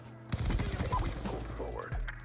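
A rapid burst of M8A1 rifle gunfire in a shooter video game, a quick string of sharp close shots lasting about a second and a half before a final crack.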